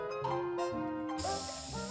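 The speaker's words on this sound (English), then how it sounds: "Yes, look, you get a spray of water." Water sprays from a glass as someone blows hard through two straws taped at an angle, one horizontal behind one vertical, giving a steady close breathy hiss that shifts in tone partway through.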